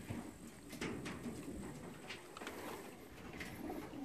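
Racing pigeons cooing softly at a loft during a junior team's return, low murmuring calls repeating under steady background noise and occasional wing or shuffle sounds.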